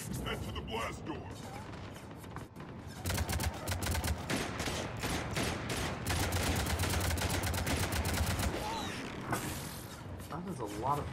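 Rapid bursts of heavy cannon fire in Mass Effect 3 pound away in dense volleys, loud and continuous with booming impacts, broken by brief pauses.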